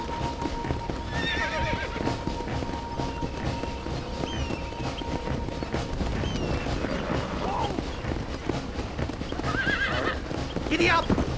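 Horses neigh and gallop in the Red Dead Redemption game, with rapid clip-clop hoofbeats running steadily underneath loud whinnies near the start and end, while voices talk over it.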